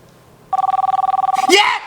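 A video call rings out with a rapid, evenly pulsing electronic ringtone that starts abruptly, repeats about fifteen times over a second, then cuts into a brief louder burst of sound.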